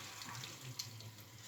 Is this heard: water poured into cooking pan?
yes